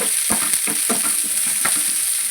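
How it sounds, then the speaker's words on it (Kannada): Onion and garlic fry in a pan with a steady high hiss of sizzling oil, broken by a few soft scraping stirs of a spoon; close and continuous, with no talking. "ಈರುಳ್ಳಿ ಬೆಳ್ಳುಳ್ಳಿ ಎಲ್ಲ ನೀಟಾಗಿ ಗೋಲ್ಡನ್ ಫ್ರೈ ಯಾವಾಗ ಫ್ರೈ ಮಾಡ್ಕೋಬೇಕು"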